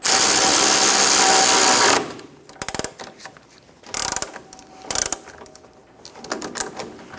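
A ratchet snugs a nut on the front lower control arm of a 2003-2007 Honda Accord. A loud steady burst of rapid clicking comes first, then a few separate bursts of ratcheting clicks and clanks, close and without talk.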